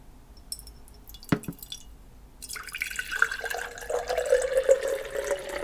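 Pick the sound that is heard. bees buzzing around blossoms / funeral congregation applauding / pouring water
pouring water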